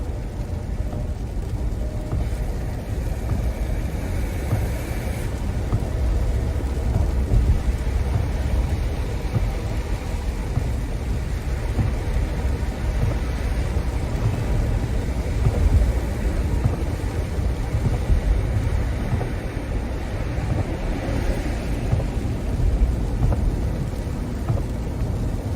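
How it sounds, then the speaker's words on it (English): Moderate freezing rain falls while a vehicle drives along the 35W highway near Fort Worth, a steady, unbroken wash of rain and road rumble that never lets up. "Moderate freezing rain is moving back in to Fort Worth."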